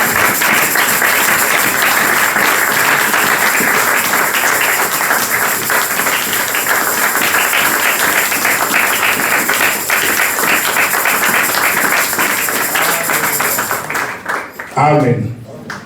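A church congregation applauding during a Sunday service, sustained loud clapping from many hands over a long stretch, with voices mixed in, fading and cut off near the end.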